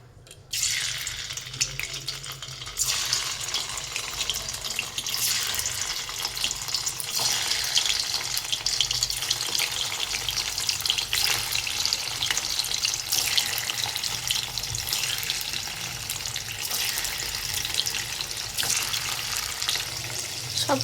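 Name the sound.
paneer pieces frying in hot oil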